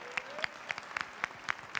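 A small audience claps for kitchen assistants at a live cooking show event, with distinct, fairly sparse hand claps coming in a quick, even rhythm, a brief voice sounding near the start.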